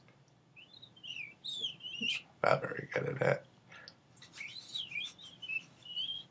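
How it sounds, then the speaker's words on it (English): Someone whistles in short, wavering chirpy phrases, broken by a few noisy bursts and a brief spoken remark, then resumes whistling. "I'm practicing my whistling."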